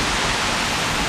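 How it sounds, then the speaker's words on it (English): A waterfall at a hidden spot in the Philippines roars as a steady, loud broadband wash of falling water, close by and unbroken, with no voices over it. "the main waterfall."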